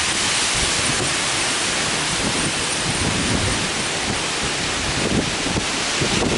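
Strong wind gusts from Hurricane Sandy roar steadily across a downtown street, a dense, loud broadband rush with buffeting surges throughout and no voices.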